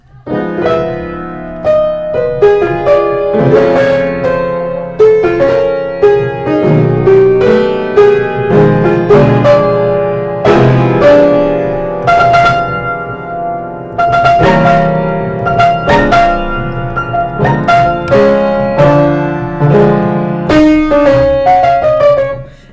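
Dissonant, atonal modern orchestral music with clashing harmonies, sudden accented chords and restless shifting textures, loud and continuous throughout without any talking.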